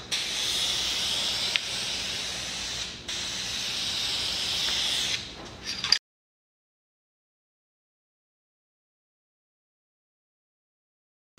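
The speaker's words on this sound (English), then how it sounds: "All right, that was the first spray coat." A spray gun hisses steadily as it lays a finish coat onto a Sapele wood bed, a loud continuous spray with short breaks, then cutting off into silence for the second half.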